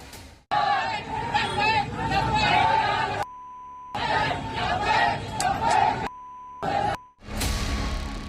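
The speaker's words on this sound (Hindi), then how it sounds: "दंगे से पहले हुए प्रोटेस्ट के दौरान भीड़ लब्बैक के नारे लगा रही थी" A crowd chanting Labbaik slogans at a protest ahead of the Nagpur riots, a loud, dense mass of voices in repeated bursts broken by short gaps with a steady beep tone.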